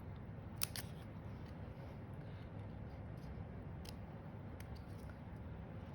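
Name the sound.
scissors trimming paper card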